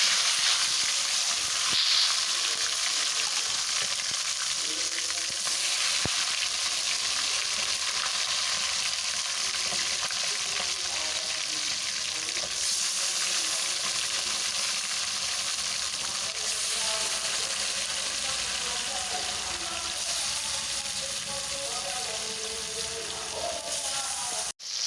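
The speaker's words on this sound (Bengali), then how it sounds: "ম্যারিনেট করা মাংসটা এবারে তেলে ভেজে নেব।" Marinated meat for biryani fries in hot oil, a loud, close, continuous sizzle and crackle that stays steady for about twenty-five seconds with occasional stirring sounds.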